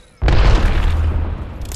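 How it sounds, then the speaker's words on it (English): A grenade detonates in the video game Apex Legends, a sudden loud boom followed by a heavy, rumbling roar that lingers for over a second. "Grenade, heads up!"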